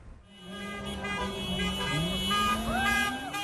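Car horns honk repeatedly at a busy London road junction as drivers respond to a Black Lives Matter street protest, with overlapping toots of varied pitch, some long and bending, amid loud traffic and crowd noise.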